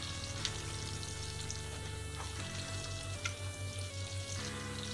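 Chorizo and morcilla frying in a pan, a steady close sizzle and crackle with occasional stirring scrapes and a soft rhythmic bubbling in the middle.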